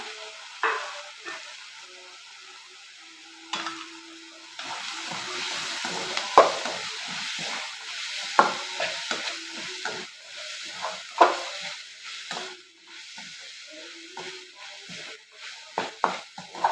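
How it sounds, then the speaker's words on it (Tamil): Boiled chickpeas go into a hot pan for masala chickpeas and are stirred, with a soft sizzle under repeated scraping and clinking of a spoon against the pan, fairly quiet and close. "இப்போ இந்த கடலையும் இதில் சேர்த்துடலாம்."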